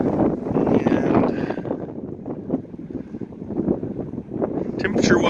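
Strong gusting wind buffets the microphone outdoors in Quartzsite, Arizona, a steady low roar that swells and dips throughout with a few brief brighter gusts near the end.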